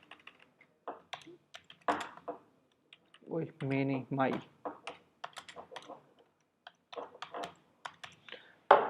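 Name being typed on a computer keyboard during a film editing class, a brief run of soft key clicks between bursts of close talk in Hindi and English.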